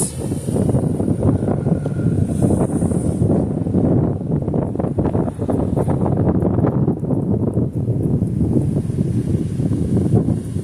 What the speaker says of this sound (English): We're just gonna let the wind shut this.